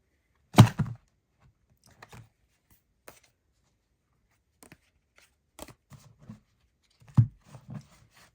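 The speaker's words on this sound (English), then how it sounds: "That shuffle did not work out very well." Tarot cards being shuffled by hand during a card reading, a few soft papery thumps and riffles near the mic in short bursts with quiet gaps between, no talking.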